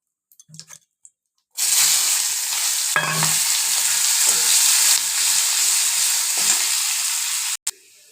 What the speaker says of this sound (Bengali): এবার তেল গরম হয়ে গেছে আমি একটু সাদা জিরে ফোড়ন দিয়ে দিলাম